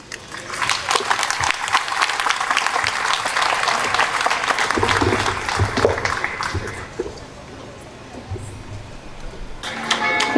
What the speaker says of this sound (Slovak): Prosím, privítajte ju s potleskom.